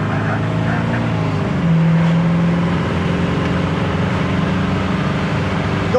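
A 1967 Chevy Camaro pulls away on a test drive, its engine droning steadily up close with a brief rising note as it accelerates, then settling into an even cruising hum.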